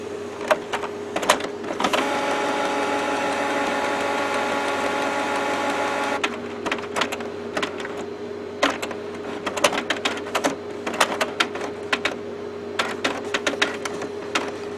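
A Canon Pixma inkjet printer carriage whirs steadily for several seconds, then clicks and clunks in irregular mechanical bursts as it shuttles back and forth, loud and close.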